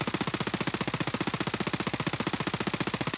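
Rapid sustained automatic fire from a P90 submachine gun in a video game, a steady unbroken burst of evenly spaced loud shots lasting the whole stretch, with no talking.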